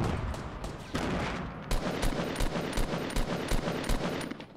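Gunfire in the video game Fortnite rings out as a rapid series of sharp shots, a dense burst followed by evenly spaced repeated cracks, fairly close and with no talking.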